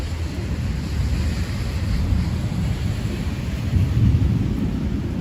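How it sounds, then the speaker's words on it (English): Deep, continuous thunder rumbles through a rainstorm, with wind buffeting the microphone and rain noise, heard from inside a car during a drive in Florida. "You can hear all the thunder."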